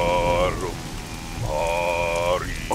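Pouring rain falls on a small cemetery at night in an audio drama, a dense, loud hiss throughout, overlaid by sustained eerie tonal chanting that starts and stops twice.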